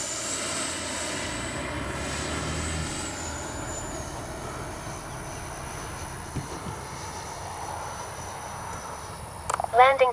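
An RC L-39 jet model passes overhead with a steady, moderately loud whine and rush that stays even throughout, a brief sharp click near the end.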